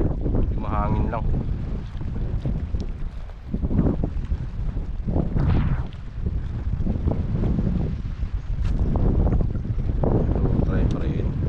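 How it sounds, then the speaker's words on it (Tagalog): Wind blowing during ultralight casting on a fishing trip near the water: strong, gusty rumbling wind buffeting the microphone throughout, with someone speaking under it. "Mahangin lang."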